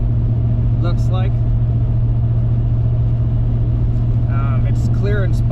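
A car drives along a snowy, icy road that is clear in spots and snow-packed in others, with a steady low engine hum and road noise throughout while people talk briefly inside.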